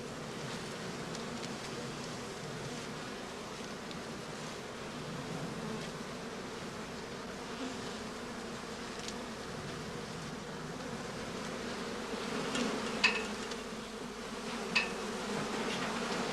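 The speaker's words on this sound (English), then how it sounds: "the entrances are sealed tight after the bees have been driven back into the skeps by smoking" Honey bees buzzing at straw skep hives in a heather-blossom apiary, a steady dense hum of many insects close by, with a couple of faint clicks near the end and no voices.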